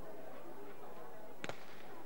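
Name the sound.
starting pistol shot for the women's 200 metres race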